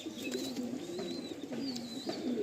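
Madrasi and old-line Giribaj pigeons coo close by, a run of soft repeated throaty coos in a steady rhythm, with faint higher chirps above them.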